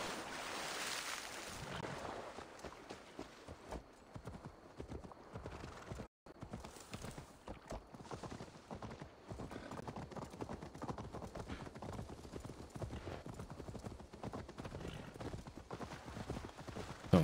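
Horse hooves clip-clop steadily while riding in the video game Assassin's Creed Valhalla, a continuous rhythmic trot with occasional whinnies over faint ambient sea and wind sounds, moderately quiet.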